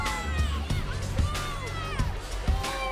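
A high school boys' basketball crowd at a Shawnee Mission Northwest substate game against Olathe South in Kansas cheers and shouts steadily for three seconds, with thumping bursts and overlapping voices throughout.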